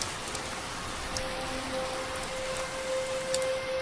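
Rain falls steadily as a soft, continuous hiss of drops on surfaces, with no voices, while a faint thin tone lingers in the background.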